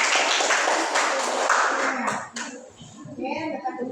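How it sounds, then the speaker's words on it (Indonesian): A burst of clapping from a class of children, dense and steady for about two seconds, then fading as children's voices and chatter take over. "mari kita tepuk tangan untuk kelompok 1"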